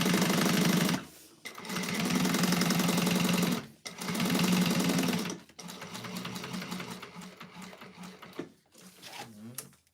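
A sewing machine that has run out of bobbin thread stitches in three loud bursts of rapid mechanical chatter, separated by short pauses, then gives a few quieter, uneven runs at the end.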